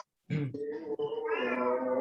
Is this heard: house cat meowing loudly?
yes